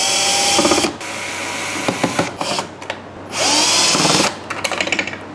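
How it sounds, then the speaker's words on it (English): A power screwdriver whirs in repeated bursts, backing screws out of an EcoFlow Delta 2 portable power station's casing, with ratcheting clicks and handling noises between the loud runs. "Now let's unscrew this 6 bad boys."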